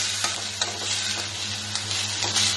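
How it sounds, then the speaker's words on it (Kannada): Onions fry in a pan with a dense, continuous sizzle and occasional stirring scrapes, close and loud throughout, with no voices. "ಈರುಳ್ಳಿ ಹಾಕಿದೆ ಅಲ್ವಾ, ಇದನ್ನ ಸ್ವಲ್ಪ ಹಸಿ ವಾಸನೆ ಹೋಗೋವರೆಗೆ ಫ್ರೈ ಮಾಡೋಣ"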